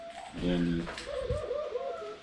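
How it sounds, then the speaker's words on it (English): Pet pigeons or doves cooing indoors, a close, fairly loud burst of soft coos and calls that mixes with someone talking quietly. "And I apologize for my birds ahead of time."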